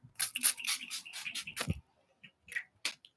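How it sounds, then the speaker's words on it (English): A series of quick, close spritzes from a spray bottle in rapid succession, then a short pause and a couple more sprays. "Just gonna spray this."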